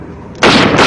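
A cowboy's gun firing a single sharp, loud shot after a brief quiet moment, close and booming with a short ringing tail.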